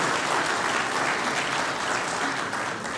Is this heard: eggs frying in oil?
no